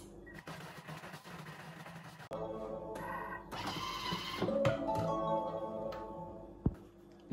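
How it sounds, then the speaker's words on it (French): A Thermomix blends orange cake batter of eggs and sugar, a steady close motor whir with harmonic tones that rises in pitch partway through and runs for several seconds, no talk. "Je vais mixer le tout pendant 5 secondes."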